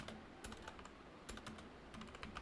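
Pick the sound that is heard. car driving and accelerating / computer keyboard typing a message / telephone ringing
computer keyboard typing a message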